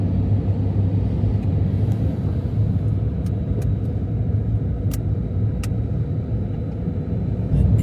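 Traffic rumbles steadily through a narrow street near a station, with passing cars close by and a few faint clicks on top, no voices.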